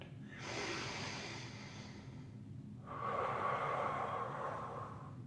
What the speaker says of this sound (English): So big breath in. Long breath out.